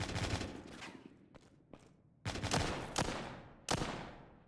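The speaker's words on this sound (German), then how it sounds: "Also ein Schuss!" Several loud gunshots in the video game Walking Zombie 2 crack out with ringing decay, spaced irregularly among noisy background clatter.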